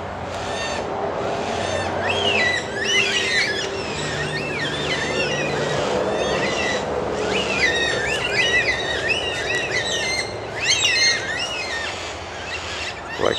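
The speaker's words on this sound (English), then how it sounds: "Black cockatoos." Black cockatoos call repeatedly in a suburban street, with harsh overlapping cries from several birds flying around at close to mid range, set over steady traffic rumble and other morning birdsong.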